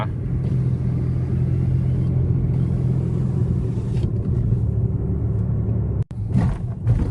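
A car drives straight along a narrow side street (soi) in Chiang Mai, heard from inside as a steady, loud low engine and road rumble that briefly cuts out near the end before resuming.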